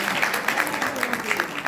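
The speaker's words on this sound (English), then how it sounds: "everybody give Sheila a cheer." An audience claps and cheers for Sheila at an 88th birthday celebration, with scattered, rhythmic claps heard under voices talking over them.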